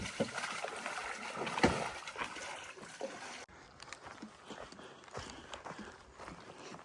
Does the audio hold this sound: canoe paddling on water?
yes